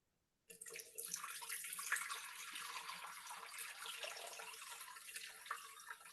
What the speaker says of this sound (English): We're going to add 500 grams of water.